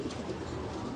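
A young pigeon, a grandson's offspring of a racing line, gives a low steady coo that is short and close, with no talk over it.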